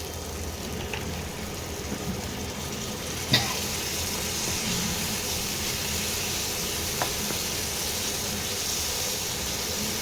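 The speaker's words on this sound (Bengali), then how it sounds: "মশলাটা কষিয়ে নিয়ে ভালো করে কষাতে হবে, যাতে মশলা আর তেল আলাদা হয়ে যায়।" Spice masala frying in oil with a splash of water, for a spicy shrimp-stuffed flat bean curry, gives a steady, moderately loud sizzle and hiss throughout, with a brief sharp clink near the start.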